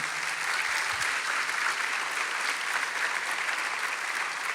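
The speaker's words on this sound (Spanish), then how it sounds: "¿Le damos un aplauso más, le parece?" A church congregation applauds together in steady, dense clapping that fills the room and holds at an even level from start to finish, with no voices rising above it.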